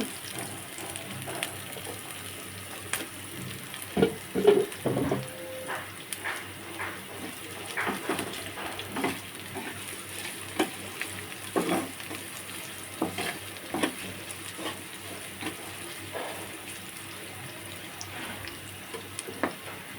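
Garlic cloves fry in a pan for a beef trotter (paya) curry, giving a soft, steady sizzle with scattered scrapes and taps of stirring throughout, and no talking.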